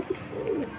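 Pigeons in a home loft, with one drinking water nearby, give a short low cooing burst close by, no voices over it.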